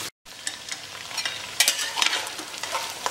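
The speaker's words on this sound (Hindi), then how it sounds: "अब इस मीट को हम शुद्ध घी में लगभग 5 से 7 मिनट अच्छा बढ़िया फ्राई कर लेंगे और हल्का ब्राउन कर लेंगे।" Mutton pieces frying and being stirred in pure ghee in a pan, a steady soft sizzle with scraping stir strokes, close and alone after a brief silent gap at the start.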